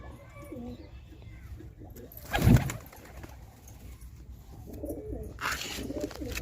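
Pet pigeons coo softly at close range, low throaty murmurs scattered through a quiet room, with one sharper thump or flutter partway through and faint background noise.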